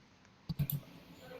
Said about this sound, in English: loudest clicking of the mouse I've ever heard